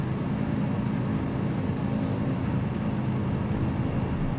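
Savage Cub light propeller airplane in Microsoft Flight Simulator 2020, flying over the Grand Canyon, giving a steady, loud, unbroken engine drone with no break or talk.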